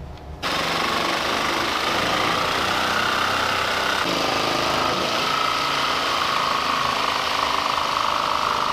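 A jigsaw with a metal-cutting blade saws through a plastic factory Jeep JK fender, a continuous rapid buzzing rattle that starts abruptly and runs steadily and fairly loud to the end.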